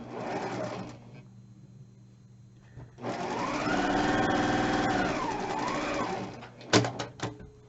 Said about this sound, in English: that's all 3 rows already sewn together